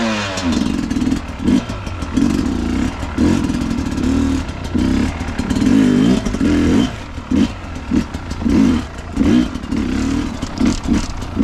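Sherco 300 SE dirt bike engine fitted with an S3 Extreme cylinder head, revving repeatedly in sharp bursts that rise and drop, loud and close with a raspy two-stroke crackle between blips.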